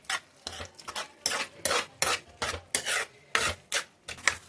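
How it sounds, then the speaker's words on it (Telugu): Semolina (rava) stirred into boiling water for a breakfast dish, a spoon scraping around a pot in about a dozen rhythmic, close, fairly loud rasping strokes with short pauses between them. "ఉండలు కట్టకుండా కలుపుకోవాలా."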